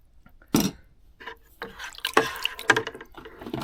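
Liquid pours and splashes in short, uneven bursts as a beginner winemaker tips must into a vessel, with a sharp gush early on and several smaller trickles and drips following, close and fairly quiet.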